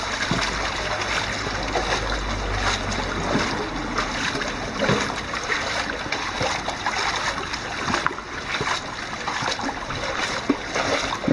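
The Nant Cynffig river flows over a slippery, reasonably deep stretch with a small head of water, giving a continuous close burble and splashing, with occasional nearby knocks and no speech.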